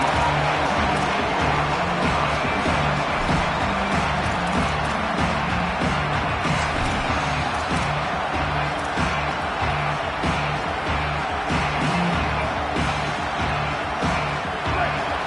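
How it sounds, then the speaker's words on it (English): Stadium crowd roaring loudly and continuously at a college football game in NCAA 25, a dense sustained wall of cheering with a low rhythmic undertone throughout. "This crowd, full throat, splitting the eardrums and letting them know it's going to be a long day."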